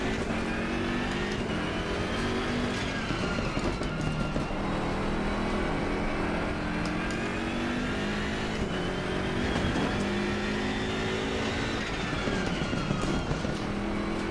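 A race car engine in the racing game Assetto Corsa Competizione drones loud and steady, its pitch climbing and falling as the car accelerates and shifts, with no talking over it.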